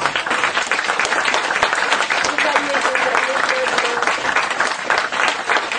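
An audience at a French political meeting applauds loudly and continuously, a dense roar of clapping from a large crowd, with faint voices mixed in.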